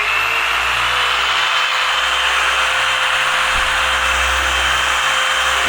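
A machine polisher buffs the paint of a 2008 BMW 650 Convertible with Chemical Guys P4 polish, a loud, steady motor whine with a constant pitch and a faint rubbing hiss, continuous and close, with no talk.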